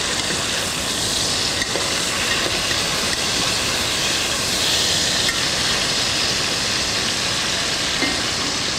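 Chicken sizzles while browning in a hot pan for a chicken sauce picante, a steady, loud, unbroken hiss and crackle that holds at a close, even level with no talking over it.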